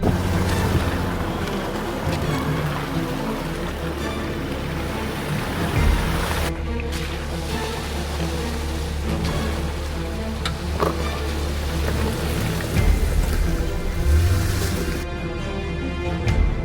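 A diesel off-road overland rig pulls through a river crossing in the Ozarks, with a steady broadband rush of water and engine rumble running continuously, close and loud, with wind buffeting the microphone.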